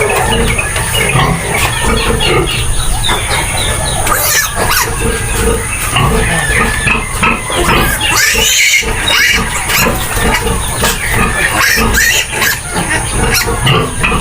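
Newborn piglets squeal and grunt continuously alongside their mother sow, a loud, close, dense chorus of overlapping high squeals and lower grunts filling the whole stretch.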